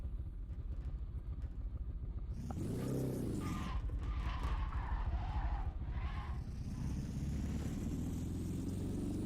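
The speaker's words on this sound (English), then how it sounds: "the engine sound is disgustingly bad." A car in a PC racing game drones with a steady engine note while tyres skid and screech in bursts through the middle, loud and continuous with no talk.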